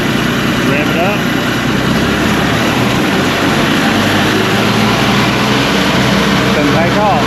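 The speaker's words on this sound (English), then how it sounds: "Rev it up." The engine of a Cook's AC 36 sawmill roars loud and steady nearby, a sustained high engine drone that holds at high revs throughout with no voices.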